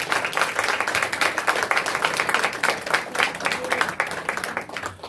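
Hearty audience applause at an annual day celebration in Delhi, dense rapid clapping from a large crowd, steady and moderately loud for the whole stretch, with no talk over it.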